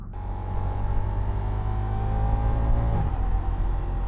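A 2024 Ducati Diavel V4 motorcycle engine climbs steadily through the rev range, a loud, continuous droning growl whose pitch rises evenly before easing off near the end.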